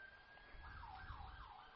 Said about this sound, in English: we got an ambulance going by